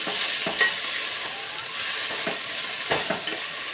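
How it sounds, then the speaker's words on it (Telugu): Chennangi leaves crackle as they hit hot oil in a pan, a soft close sizzle with a few sharp pops and light stirring clicks, no voice. "ఇప్పుడు చిన్నంగాకు ఇందులో వేసుకొని చూడండి ఎట్లా చిట్టపట్టలాడుతుందో"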